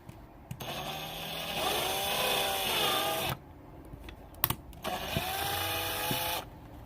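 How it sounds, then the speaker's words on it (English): A high-pitched drill with a small bit whines steadily as it bores a hole into a model passenger car, stopping briefly then starting again for a second run, close and fairly loud. "you will use the drill bit to create a hole in the prong locations"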